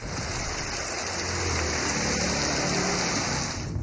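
Heavy rain with thunder over the Attock area, a dense continuous hiss of downpour with a low rumbling undertone, steady and loud, no voices.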